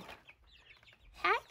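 Young chickens in a brooder give a few quick, close clucks and chirps in a short burst, with faint rustling between.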